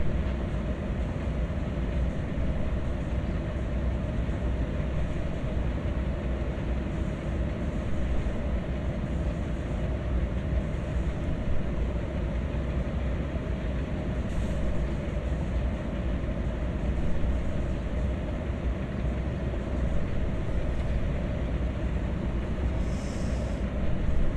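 A heavy-cargo freight train in the Train Sim World 2020 video game rolls along with a steady, loud, continuous rumble and rail noise that stays unbroken for the whole stretch, with no talking.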